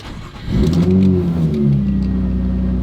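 A fourth-generation Nissan Maxima engine cranks briefly and fires up, rising into a strong rev before settling into a steady, rumbling idle; loud and close, with no talking.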